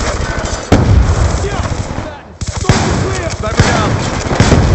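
Heavy gunfire in Call of Duty: Black Ops 2, with dense bursts of shots and explosions filling the scene, a brief lull near the middle, then sustained firing resuming loud and close.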